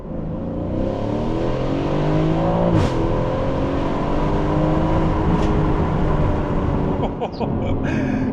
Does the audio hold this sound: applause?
no